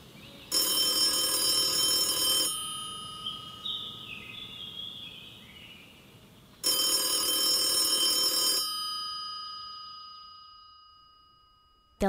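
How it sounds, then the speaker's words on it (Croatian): A telephone rings in two long, loud bursts separated by a pause, with faint chirping tones between them and a trailing ring that fades to silence. "Telefon i dalje zvoni."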